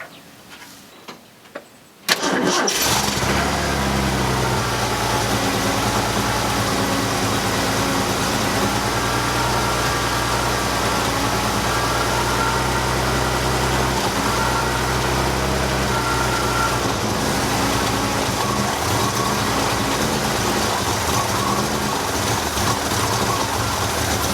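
A Ford F100 short bed truck's engine cranks after a brief quiet moment, then catches and runs with a loud, steady rumble that continues close by to the end.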